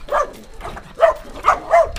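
A dog at an abandoned, decaying house in the Philippines barks angrily, about five sharp, loud, close barks in an uneven rhythm over two seconds.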